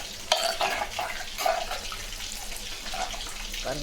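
Water being poured into a pot of tomato curry and stirred, with soft splashing and scraping that come in a few bursts over a steady background hiss.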